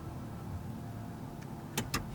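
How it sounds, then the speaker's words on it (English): A 2021 Mercedes EQS electric car gives its powering-down sound as it is switched off: two short, quiet tones in quick succession near the end, over a low hush, with no talking. "It's like a powering down sound."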